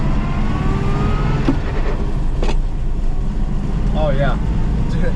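A 1957 VW Beetle on a test drive: a loud, steady air-cooled engine drone and road rumble fill the cabin continuously, with brief knocks and a few shifts in engine note, and a voice speaks briefly over it.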